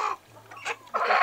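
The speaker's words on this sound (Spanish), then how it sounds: "¿Y tú por qué traes a la gallina así?" A hen clucks in a few short, close bursts separated by brief pauses, loud and with no other sound around it.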